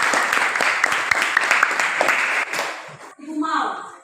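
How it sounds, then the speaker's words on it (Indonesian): Classroom applause breaks out during a lesson, a moderate burst of clapping over the first few seconds before it fades out and a voice takes over. "Tepuk tangan dulu untuk kita semua"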